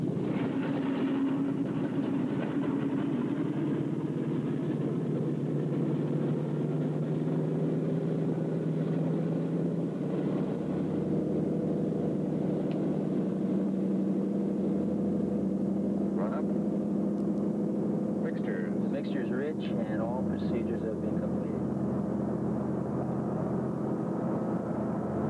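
Aircraft left engine starting and running, a sustained loud roar with a rising tonal whine that shifts in pitch, steady and continuous, with some brief higher-pitched sounds near the end.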